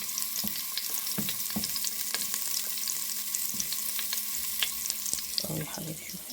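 Chicken breast frying with sliced onions in a hot pan, a steady close sizzle with periodic sharp clicks and scrapes of stirring throughout, no talking.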